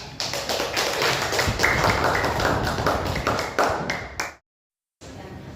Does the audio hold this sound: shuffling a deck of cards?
no